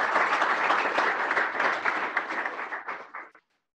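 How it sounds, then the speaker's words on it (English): Audience applause at a university startup showcase, dense steady clapping from a crowd that thins over the last second and stops abruptly, with nothing but silence after. "Let's give her a hand, a round of applause."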